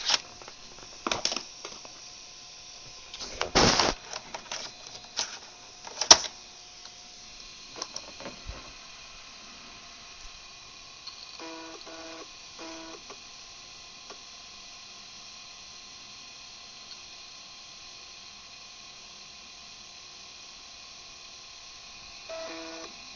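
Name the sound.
disk drive making odd noise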